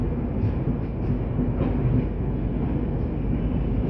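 Passenger train pulling into an Indian railway station, heard from on board or the platform as a continuous low rumble with faint rail clatter, steady and fairly loud with no voices.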